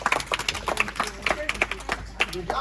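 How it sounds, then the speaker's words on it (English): A room of people clapping for a contest winner at a practice speech, a busy patter of hands under loud speaking voices. "Give him a round of applause."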